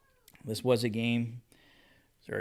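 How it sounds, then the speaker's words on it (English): A cat meows once in the background while a person talks over it. "I don't know if you guys can hear him meowing in the background"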